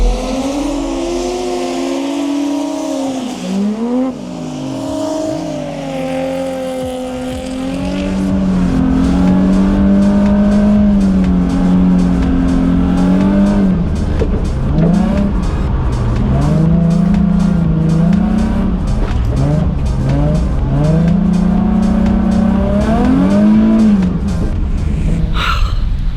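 A car laps Ebisu Circuit with a loud, sustained engine note that rises and falls through gear changes, and tires squeal as it goes through corners. The sound fills the whole stretch at close range.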